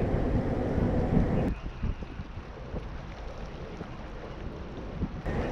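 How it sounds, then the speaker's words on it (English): The Mesabi Miner, a Great Lakes freighter, arrives at Duluth to load iron ore pellets, heard as a steady low rumble under wind buffeting the microphone, with the roar dropping after a second and a half and rising again near the end. "The Mesabi Miner is arriving today to load iron ore pellets at Canadian National in West Duluth."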